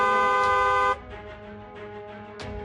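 A loud, steady car horn blares for just under a second, then cuts off, leaving a quieter background hum with a faint tonal tail before a brief burst near the end.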